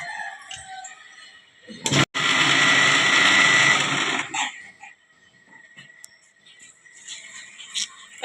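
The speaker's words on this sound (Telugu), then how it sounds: "టమాటా పచ్చడి మిక్సీ అయితే పడుతున్నాను అనమాట టిఫిన్లోకి." A mixer grinder blends tomato chutney in one loud, whirring burst of about two and a half seconds, briefly paused once, set among quiet kitchen noises before and after.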